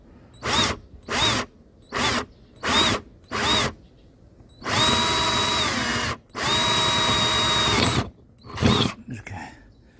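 A power drill bores through the thin steel top plate of a camper van roof, with insulation beneath, for a solar panel install: several short bursts, then two long sustained whining runs and a final brief burst, close and loud.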